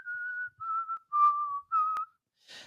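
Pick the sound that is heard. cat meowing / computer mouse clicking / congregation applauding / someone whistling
someone whistling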